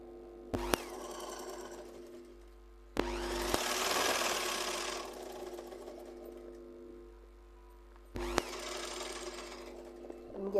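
A sewing machine stitches fabric in three separate runs, each a close, steady mechanical whirr that stops cleanly between bursts. The longest run comes in the middle.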